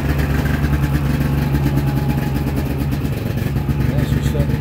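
A Polaris LXT snowmobile engine idles while warming up on a frosty day, a loud, steady low drone with a strong humming tone that holds throughout, while someone talks over it.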